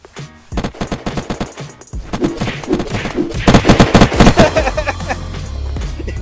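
Machine gun fire in the video game Unturned, rapid repeated bursts of sharp gunshots in quick rhythm, loud and close, with a brief pause before a second, denser volley.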